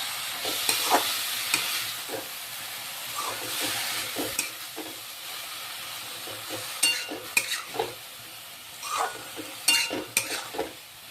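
Dill greens (shepu bhaji) go into a pan where dal has just been added and are stirred, with scraping strokes and bursts of sizzling that come in irregular clusters and grow busier toward the end.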